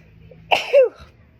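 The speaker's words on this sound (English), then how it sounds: "I'm gonna sneeze a million times." A single sharp sneeze bursts out close by, with a rising nasal squeal trailing off, over faint background hum.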